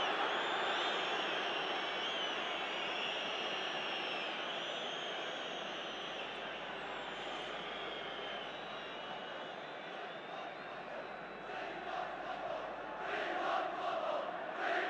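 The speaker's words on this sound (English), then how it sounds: "We want football, the crowd are shouting." A football crowd at a 1979 FA Cup match between Arsenal and Manchester United roars and chants throughout, a broad, sustained wash of stadium noise that swells again toward the end.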